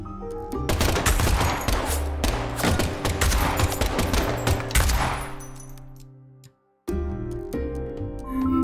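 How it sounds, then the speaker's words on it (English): A dense burst of rapid gunfire in a boss fight from the video game Deadly Premonition 2, with loud overlapping shots over a low rumble. The shots fade, a brief silence follows, and then a steady low hum. "the last gunshot we heard sounded ominous, Zack."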